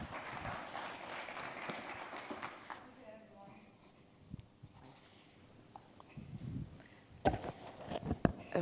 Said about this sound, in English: a round of applause for our guest.